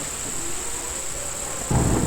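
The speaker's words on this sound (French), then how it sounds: "Mais juste cet orage qui veut pas s'arrêter" A rolling thunderstorm rumbles at a distance, with a deeper boom swelling near the end, while insects keep up a constant high chirr in the background.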